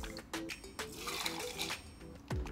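Reposado tequila poured for a pineapple margarita, a short, quiet liquid gurgle and trickle with a few small clinks and splashes, close by and without talk.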